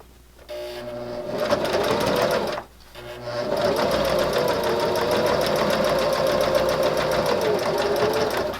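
Close stitching from a sewing machine on fabric, a steady rapid chatter that stops for a brief moment and then resumes for several more seconds, alone without voices.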